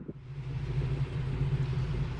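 A 1980 Chevy C10 Scottsdale truck's engine rumbles low and steady at idle pace as it pulls up, a moderately quiet, close drone with no talking.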